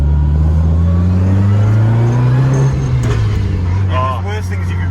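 Mitsubishi Evo 8 MR with a Samsonas sequential gearbox, 750 hp, engine idling and revving up in a rising, loud drone before settling back, close by with people talking over it.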